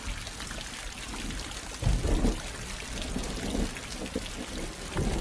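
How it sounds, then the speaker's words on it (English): Rainwater runs steadily through an open pipe fixed along the edge of a roof during rain, a continuous close splashing trickle with a few louder gushes. "Water is flowing through the open pipe fixed along the edges of the roof."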